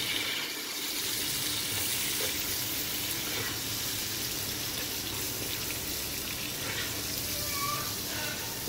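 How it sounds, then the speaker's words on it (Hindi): Chopped tomatoes frying in a pan for a potato chicken curry, a steady dense sizzle that runs unbroken throughout, close and fairly loud, with no voices. "इसके बाद हम इसमें जो 2 अदर टमाटर काट चॉप करके रखे हुए थे वो डाल देंगे।"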